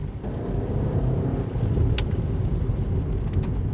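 A 2026 Suzuki Vitara with an electric motor drives through corners, giving a steady low road and tyre rumble heard from inside the cabin, with brief faint clicks.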